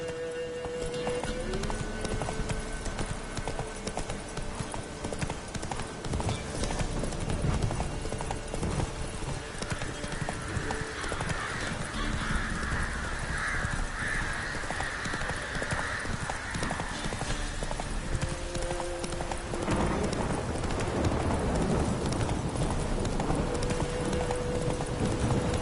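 Roach, the horse in The Witcher 3 on PS5, gallops with steady rhythmic clip-clop hoofbeats and an occasional whinny, held close and continuous over game music and ambience throughout.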